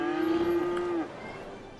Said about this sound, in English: Can hear the cows mowing.